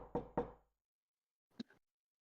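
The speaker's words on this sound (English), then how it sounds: "raises his scaled hand, and begins to knock." A hand knocking on a door: two firm, close knocks, a short silence, then one lighter rap followed by a faint tap, all in an otherwise quiet space.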